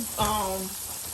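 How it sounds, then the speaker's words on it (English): Steady hissing sizzle of pork chops frying in hot oil, with a brief tonal voice-like sound rising over it early on. "place your pork chops in the grease"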